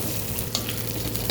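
Washed amaranth leaves go into hot oil with dried red chillies for a dal, giving a steady, close crackling sizzle with light stirring throughout and no voices.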